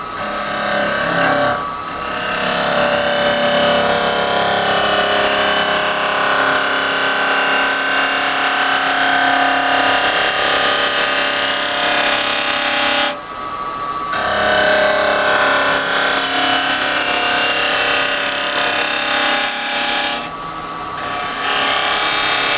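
A wood lathe spins a resin bowl at 2000 RPM while a carbide chisel cuts it, giving a loud, steady whirring drone that runs almost without a break and dips briefly twice.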